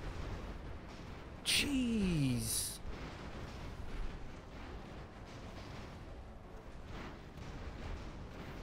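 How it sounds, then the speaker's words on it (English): Explosions in the airship battle game Airships: Conquer The Skies with the Cataclystic Expansion mod: a burst of booms and a sharp descending effect near the start amid continuous battle noise, while someone comments briefly. "Gonna be a lot of explosions."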